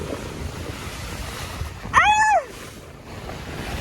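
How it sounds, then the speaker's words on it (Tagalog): Sea waves at Bislig, Surigao del Sur wash steadily under wind noise on the microphone, a constant broad roar with a brief tonal whistle-like sound cutting through midway. "Baha ang dagat."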